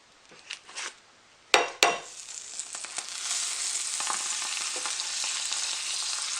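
A ham steak breakfast sandwich with cheese fries in butter on a griddle. A couple of sharp utensil clacks lead into a steady, close, loud sizzle that holds to the end with no talk.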